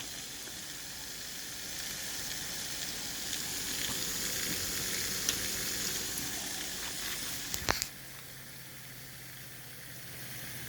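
A 3D-printed pulse motor, 8 magnets and 4 poles, spins steadily on its new rotor with a smooth, even hiss and whir and almost no chatter, a brief clack near the end before a quieter low hum remains.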